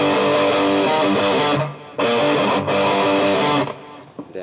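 A heavily distorted electric guitar plays a staccato main riff through a filter effect, loud and choppy, with short clipped bursts separated by sudden cutoffs.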